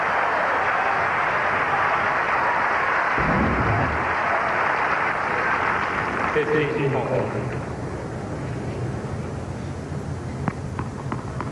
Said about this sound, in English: Roddick again, the first to applaud.